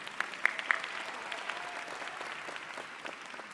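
Audience applause for a graduate at a university languages, literatures and cultures commencement, a steady crackle of many hands clapping with a few sharper individual claps and whistle-like squeaks near the start.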